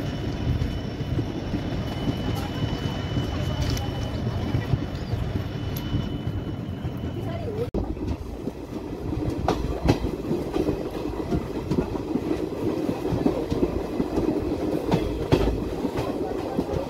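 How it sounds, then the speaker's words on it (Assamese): A local train runs on the rails between Dhekiajuli and Rangiya, a steady close rumble with rhythmic clickety-clack of wheels over track joints, a brief jolt midway, continuous throughout with no talk. "এই লোকেল ট্ৰেইনটো ঢেকিয়াজুলিৰ পৰা ৰঙিয়ালৈকে 9টা হল্ট দিব"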